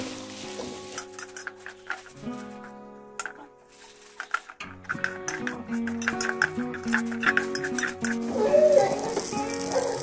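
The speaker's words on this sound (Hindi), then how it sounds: "इसको थोड़ा सा गोल्डन ब्राउन होने तक भूनेंगे।" Semolina is roasted in ghee in a pan while it is stirred for panjiri. A soft sizzle runs under repeated scraping and rattling strokes of the spoon, with tonal music playing throughout.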